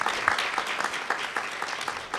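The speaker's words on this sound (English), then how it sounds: "So a round of applause to our host this evening, the Loudermilk Center." A town hall crowd gathered for a meeting on the economic impact of an Arizona law gives steady, dense applause. The clapping is fairly even and continues throughout.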